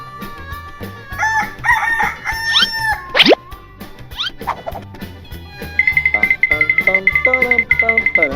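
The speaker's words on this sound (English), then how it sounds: "Oh, good morning, Mr. Chicken" A cartoon rooster crows on a farm at morning amid playful cartoon sound effects, with a rapid, regular clucking pattern following in the second half.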